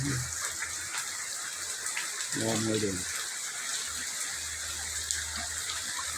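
Heavy typhoon rain pours down in Butuan City, Caraga region, a constant rushing wash of water that continues throughout while someone talks over it.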